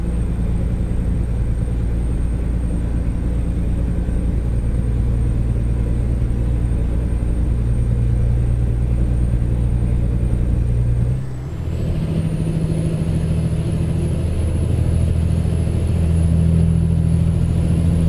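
Heavy truck engine in American Truck Simulator laboring up a hill, a steady low drone with a brief dip and shift in pitch partway through, then resuming its sustained rumble; no talking.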